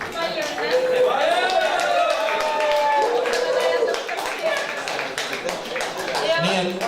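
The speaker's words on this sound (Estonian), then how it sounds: "Aplausi!" An audience applauds at an evening show, a dense, sustained clapping that fills the room while a voice talks loudly over it and the crowd murmurs.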